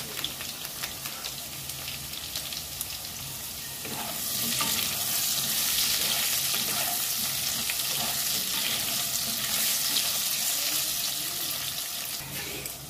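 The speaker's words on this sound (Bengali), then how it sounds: "আলুগুলো ভাজা হয়ে গেছে" Potatoes sizzle steadily as they fry in a pan with salt and turmeric, and the crackling grows louder and denser partway through, with no talking.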